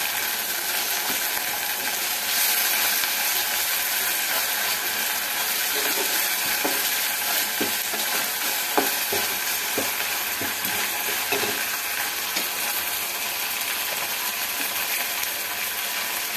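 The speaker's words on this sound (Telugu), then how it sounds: "పచ్చి వాసన పోయేదాకా మంచిగా కలుపుకోవాలి." Egg curry with Kura Alchantha Kaya fries in a pan, a steady sizzle under repeated scraping and tapping of a spoon as it is stirred.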